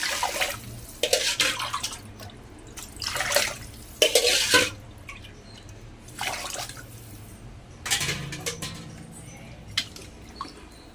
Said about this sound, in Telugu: రైస్ వేసాక ఒకసారి మొత్తం కలిపేసి వాటర్ వేసేసుకుందాము